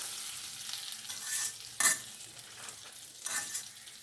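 Butter sizzling in a pan for dal while a spoon stirs it, a steady soft frying hiss with scraping strokes and a brief louder clink, no talk.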